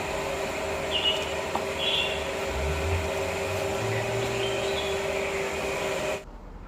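A Kawasaki K3V hydraulic pump runs on test with a steady, droning mechanical hum and whine and a few faint higher tones, then cuts off abruptly near the end.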